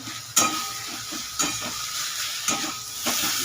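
Coriander, cumin, chilli powder and tomato fry in a pan for masoor lentil dal, a continuous close sizzle marked by a spatula stroke about once a second.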